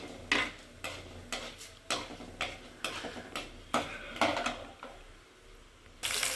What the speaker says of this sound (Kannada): ಸ್ವಲ್ಪ ಉದ್ದಿನಬೇಳೆ ಆಗಲಿ. ಫ್ರೈ ಆಗಲಿ.